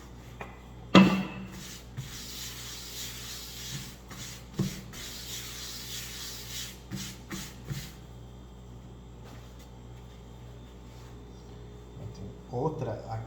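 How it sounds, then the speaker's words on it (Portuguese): Pizza dough being rubbed and rounded under the palm of a hand, producing soft, close brushing and scuffing strokes after an initial knock, fairly quiet, with faint voices in the background. "Com a ajuda da palma da mão, aí esfregando ela, você consegue deixar ela redonda."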